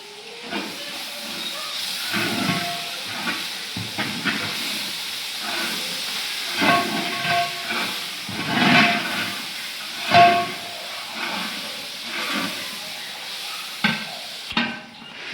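Ginger garlic paste fries in a hot pan for egg curry, giving a continuous hiss and sizzle broken by repeated spoon scrapes and stirring knocks over about fifteen seconds, with no talking.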